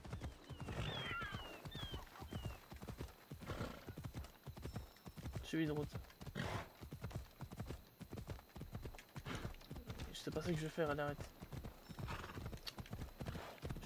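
Steady clip-clop of horse hooves in the video game Assassin's Creed Odyssey runs throughout with a couple of whinnies, while someone talks over it close up.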